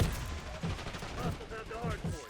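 Rapid full-auto pistol fire in Black Ops 6 rattles off in short bursts with a few pauses between them, moderately loud over busy game noise.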